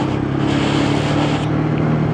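A Lexmoto ZSB motorcycle engine drones steadily at low revs while climbing a hill, a constant close hum with wind rush and no break.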